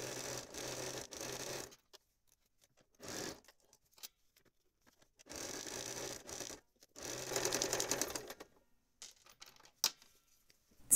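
A sewing machine quilts through fabric over a laminate-flooring foam underlay in several short runs of fast, steady mechanical stitching, close by, separated by pauses with faint handling clicks.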